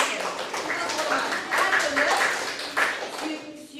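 A burst of hand clapping from a group rings out steadily for a few seconds, with voices mixed in.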